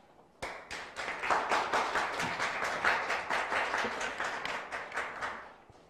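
A forum audience of nurses claps in a short, brisk round of applause after a presentation, starting abruptly and holding steady before tapering slightly.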